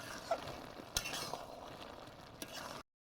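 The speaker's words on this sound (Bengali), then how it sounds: "এবার ভালোভাবে নেড়ে নিচ্ছি যাতে ভালোভাবে মিশে যায়" Curry with sugar and cumin being stirred in a pan: soft close scraping and a gentle sizzle, punctuated by a few light clinks of the spoon against the pan.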